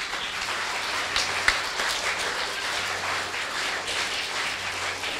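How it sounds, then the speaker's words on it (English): Audience applause at a school event at an academy in Ravulapalem, steady broadband clapping throughout with a brief sharper clap near the middle, moderately loud and continuous with no speech. "Green house, you should be clapping now."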